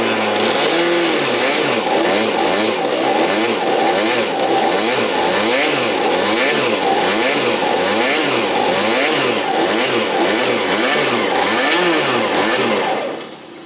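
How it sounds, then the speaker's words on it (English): A go-kart engine revs repeatedly while the brakes and engine are warmed up before a track session, producing loud, rhythmic rising and falling surges that hold steady and then cut off at the end. "that's basically how you would rev up the brakes and warm them up and warm up the engine"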